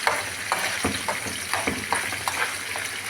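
Curry leaves dropped into hot oil and stirred, with a busy sizzle and repeated scraping stir strokes in a close, lively rhythm.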